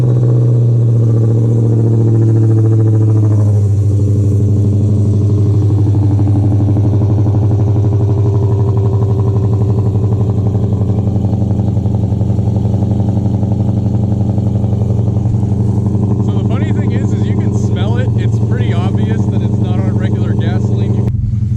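A Dodge Charger R/T converted to run on E85 turns over and settles into a loud, steady, close engine drone that holds for the whole stretch, with someone talking over it.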